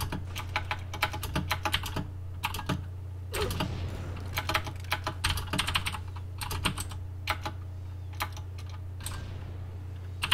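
Rapid bursts of computer keyboard typing during a Halo 2 MLG gaming session, close and crisp clicks in irregular clusters over a steady low hum.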